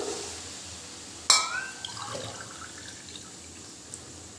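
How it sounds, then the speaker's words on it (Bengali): A cup of milk hits semolina frying in hot ghee: one sudden splash and hiss that quickly fades into soft bubbling and a few faint drips, with no voices. "এবার এর ভিতরে দিয়ে দিচ্ছি এক কাপ দুধ"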